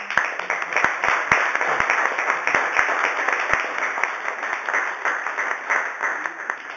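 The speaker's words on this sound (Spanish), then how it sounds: "primero un aplauso" Group applause, several hands clapping together in a steady, fairly loud burst lasting several seconds, with a few sharp individual claps standing out.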